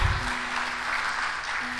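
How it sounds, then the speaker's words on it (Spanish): A church congregation applauds in a dense, steady wash of clapping that is fairly loud and close, with a faint sustained tone underneath. "Dale un aplauso al Señor, aleluya."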